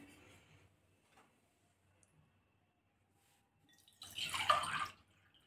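Water poured from a glass into a pot of palak dal (spinach lentils seasoned with turmeric and salt) on a home stove: a short, splashy gush lasting about a second after several seconds of near silence.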